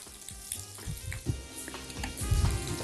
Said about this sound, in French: Les calamars n'ont pas besoin de beaucoup de temps pour la cuisson. On va juste les faire dorer.